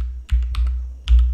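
Keystrokes on a computer keyboard while a field name is typed in, a few sharp clicks in two short bursts, close and clear with no talking.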